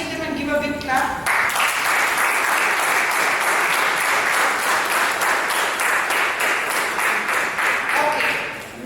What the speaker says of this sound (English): Should you not appreciate them and give a big clap?